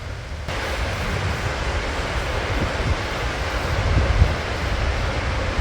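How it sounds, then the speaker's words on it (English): Seljalandsfoss waterfall in Iceland, heard as a steady, loud broadband roar of falling water mixed with gusting wind, continuous throughout with no voices. "That is Seljalandsfoss, one of the highest waterfalls in Iceland. It's windy, it's wet"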